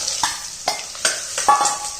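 Bottle gourd dropped into a hot tempering of mustard seeds, cumin, whole spices, asafoetida and chili, sizzling loudly and steadily with several sharp bursts of crackle as pieces hit the oil.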